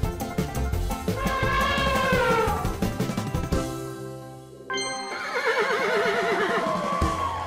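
A horse neighs loudly several times, long wavering whinnies separated by a brief pause and a few thumps, close and clear with no talking.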